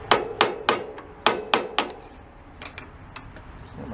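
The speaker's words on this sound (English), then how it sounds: "if you don't move, beat it with a hammer" Hammer beating on a seized Craftsman riding mower: a burst of about seven sharp metallic blows in uneven rhythm, loud and close, followed by quieter scattered taps.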